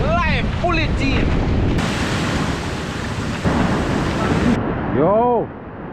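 Heavy, steady tropical storm rain and a low rumbling roar fill the scene in Jamaica, loud and continuous, while a voice speaks briefly at the start and end.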